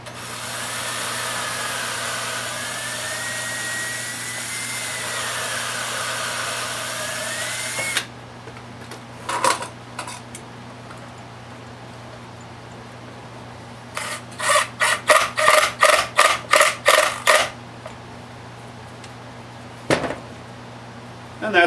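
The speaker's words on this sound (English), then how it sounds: "and drill my hole." Power drill boring a hole about 3/8 inch deep into a wooden flag-design cutting board, a steady close whine with wavering pitch for about eight seconds, followed by scattered knocks and a quick burst of rhythmic tapping.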